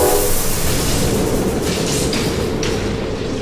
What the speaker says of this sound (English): Nothing sinister about a choo-choo train.